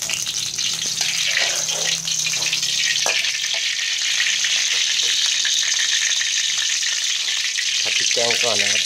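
Curry paste for spicy stir-fried giant catfish fries loudly and continuously in a small amount of oil, a dense close sizzle with a few utensil scrapes and no speech.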